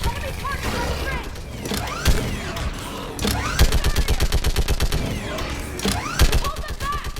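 A mounted gun fires in Mass Effect 3, rapid loud bursts in a steady rattling rhythm mixed with scattered shots and battle noise, with voices shouting over the combat.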